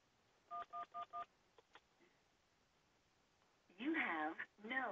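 Telephone keypad DTMF tones dialing *98 to reach voicemail on a VoIP phone system: four quick evenly spaced beeps and a couple of faint clicks, then a recorded voice prompt speaking.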